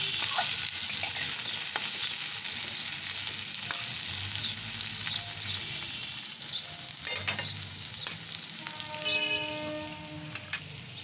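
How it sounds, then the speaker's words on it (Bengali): Potato, onion and garlic fry in hot oil in a home kitchen, a dense continuous sizzle close up with repeated scraping stirs and crackles partway through, no talking. "তারপরে এই আলু, পেঁয়াজ, রসুন এগুলো আমি এই তেলে হালকা আছে"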